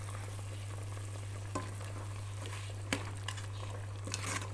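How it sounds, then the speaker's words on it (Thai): A steady bubbling, sizzling boil of soup over a low hum, broken by a few soft splashes as fish balls drop into the liquid. "น้ำเดือดมากๆนะคะ แล้วก็ใส่ลูกชิ้นปลาลงไปเลย"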